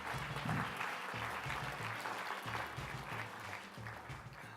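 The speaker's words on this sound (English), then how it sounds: "Big round of applause." An audience applauds after a presentation at a standards and research session, with sustained, even clapping from a room full of people at moderate volume throughout.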